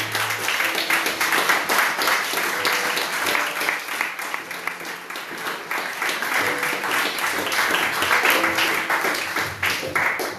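A church congregation applauds God during a worship service, with sustained, dense clapping running throughout at a steady, fairly loud level, with voices mixed faintly underneath.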